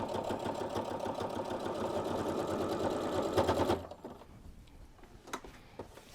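A sewing machine stitching a long edge of apron fabric, humming and rattling in a rapid, even run for several seconds before halting abruptly, then quiet with a couple of sharp clicks.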